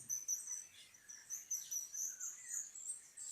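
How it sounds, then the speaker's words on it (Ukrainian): Several birds sing and chirp in spring, with bright, high-pitched twittering phrases repeating in quick bursts, fairly clear over a quiet background. "Птахи весело і голосно співали свої пісні."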